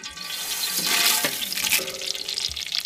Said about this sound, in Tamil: தண்ணி